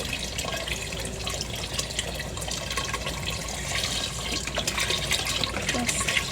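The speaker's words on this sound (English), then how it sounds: "I'm just gonna add some kosher chicken broth" Chicken broth pours steadily into a pot of water, a continuous close splashing and gurgling that grows slightly louder toward the end.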